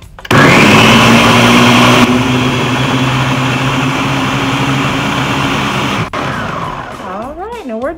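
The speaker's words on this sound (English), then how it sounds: "Your blender's gonna take care of all of that. All right. So we're gonna put this on a high blend." A countertop blender churns a smoothie on its high setting, a loud steady whir running nonstop for about six seconds before winding down, followed by a brief rising whistle-like tone at the end.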